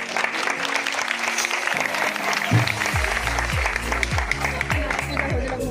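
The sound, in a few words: guests clapping at a church wedding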